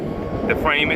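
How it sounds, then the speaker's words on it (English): A passing airplane near an airport at a townhome construction site, a steady broad roar under ongoing speech throughout the brief moment. "I apologize for the plane."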